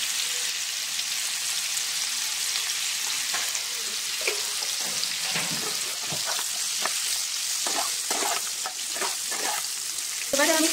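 Cauliflower florets frying in a pan over a low flame, a steady close sizzle dotted with soft pops and stirring clicks that grow busier toward the end, with no talking.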